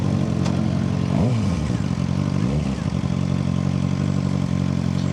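A Suzuki GSX-R 600 motorcycle engine runs steadily while riding after repair work, loud and close with wind noise and rising and falling revs; a voice speaks briefly.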